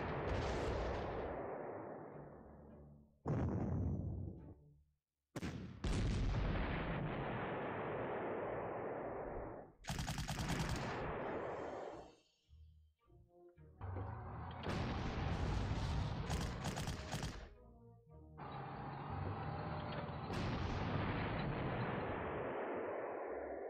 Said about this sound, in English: Notice I'm putting double artillery on the paratroopers, and I'm hoping for the best.